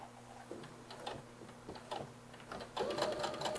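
A home sewing machine stitches and back stitches fabric for a small costume outfit, with short bursts of ticking needle runs separated by pauses, moderately quiet and close, with no voices.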